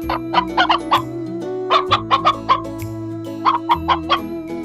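A cartoon chicken on a farm clucks in three quick bursts of short, sharp calls, loud and close over a soft music bed, with no talking.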